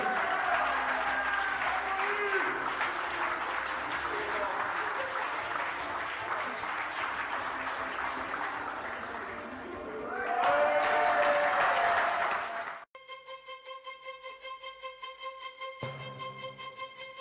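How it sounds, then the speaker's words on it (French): Audience applauding award winners at a French event, a steady wash of clapping that swells near the end before cutting to a quieter electronic tone sequence. "Vous pouvez les applaudir."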